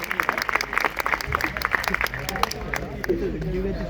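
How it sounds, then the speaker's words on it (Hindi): A crowd claps together at an outdoor college bonfire night party, steady applause running under a voice and background chatter. "एक बार तालियां बजा रहे।"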